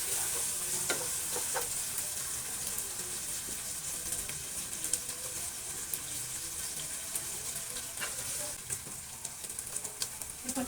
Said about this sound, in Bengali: আমি গাজরটা কিছুক্ষণ ভেজে নেব